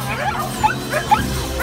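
Several rescue dogs bark and yip in short bursts from their pens, fairly close, with a steady low hum underneath.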